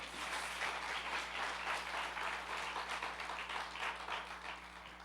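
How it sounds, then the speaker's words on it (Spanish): Sustained applause from a church congregation, a dense, steady clatter of many hands clapping together over a low hum. "Denle un fuerte aplauso al Señor Jesús."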